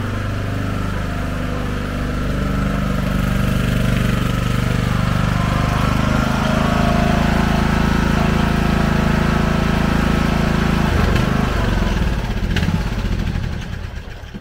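A Craftsman lawn mower engine runs steadily and loudly for the whole stretch, with a constant droning hum and no talking.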